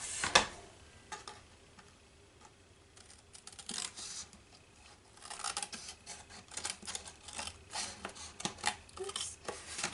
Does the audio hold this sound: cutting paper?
yes